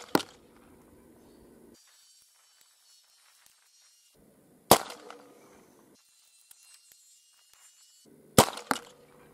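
Three sharp gunshots fire ballistic rope darts at a 25-yard target, each a loud, isolated crack spaced several seconds apart, with quiet outdoor ambience and faint electronic whine between shots.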